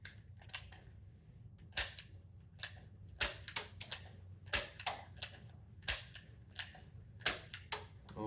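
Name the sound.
toy revolver firing dart shotgun load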